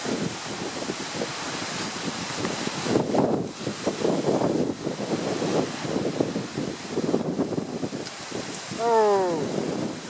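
Strong gusting wind storm roars through trees outdoors, with rushing bursts of wind buffeting the microphone, and voices talking over it in spots.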